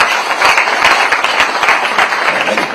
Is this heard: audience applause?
yes